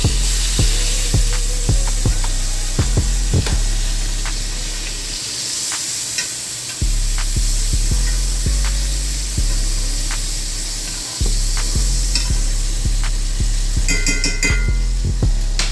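Tomahawk steak sizzling loudly and steadily in a hot pan after being flipped, a constant frying hiss broken by a few clanks and knocks of the pan and utensils, with no talk.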